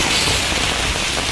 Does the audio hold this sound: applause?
no